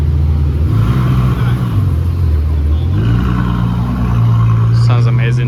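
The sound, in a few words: Ferrari F12 engine and exhaust revving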